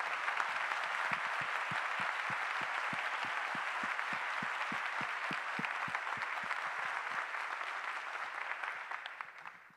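An audience claps steadily for nearly ten seconds, a dense, even patter with a rhythmic beat running through it, fading out at the end.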